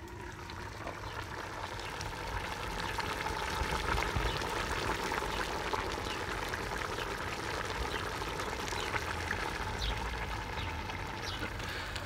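Browned chicken simmering with a little added water in a pot for chicken and almond pastilla, a steady, dense bubbling and hissing that continues close up without pause.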